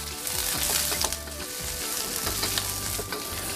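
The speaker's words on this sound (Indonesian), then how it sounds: "Lalu sisakan sedikit minyak, tumis bawang putih, bawang merah," Garlic, shallots and ginger sauté in a little leftover oil, giving a constant crackling sizzle up close, with light clinks and scrapes of a stirring utensil.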